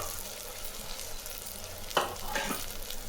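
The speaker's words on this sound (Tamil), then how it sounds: "எல்லாத்தையும் போட்டு வதக்கலாம்." Spice powders such as sambar chili, turmeric, and Kashmiri chili powder sautéing in a pan give a soft, even crackle throughout, with one brief scrape of a spoon near the middle.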